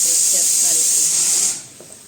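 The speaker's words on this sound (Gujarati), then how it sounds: "અહીંયા કુકરની સીટી પણ વાગવાનું ચાલુ થઈ ગઈ" A kitchen pressure cooker lets off a loud, steady hissing blast of steam for about a second and a half, then cuts off sharply, leaving a faint background hum.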